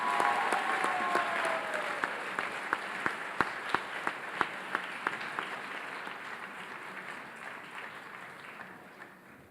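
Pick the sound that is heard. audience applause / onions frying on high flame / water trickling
audience applause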